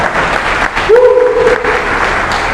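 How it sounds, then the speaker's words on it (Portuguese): A church congregation claps for the Lord during a worship service, an even spread of applause running throughout, with a held tone, likely a voice or instrument, rising in the middle. "Você pode dar um aplauso para o Senhor por esta palavra?"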